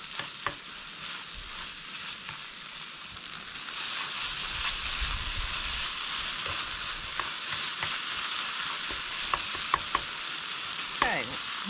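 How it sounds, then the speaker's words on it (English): A mince mixture with shelled peas sizzles steadily in a pan while being stirred and heated, a close continuous hiss with occasional light clicks of a utensil and no talking. "Stir it through, heat it up."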